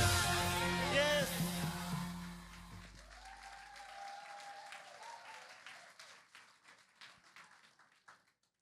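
A church congregation breaks into applause, a loud burst of many hands that gradually thins into scattered, fading individual claps as the room quiets.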